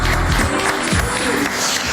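A studio audience on a French television news and entertainment show claps loudly, steady applause with some crowd noise and a few voices mixed in.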